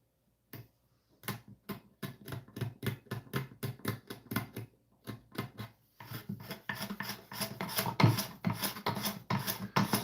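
A knife is dragged as a scraper across guitar wood, making a steady series of quick, rasping strokes that grow louder and denser partway through. No voices.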